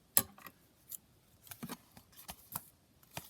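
Scissors trimming paper for a double envelope pocket page, a sequence of close, sharp snips spaced irregularly, with a quiet background between cuts.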